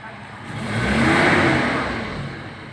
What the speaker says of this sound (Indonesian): Pada waktu hidup mesin, mobil terasa goyang.